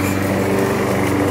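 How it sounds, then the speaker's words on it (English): A lawn mower runs steadily while mowing grass outdoors, a loud, constant buzzing engine drone with no change in pitch, and no one speaks. "There's John mowing."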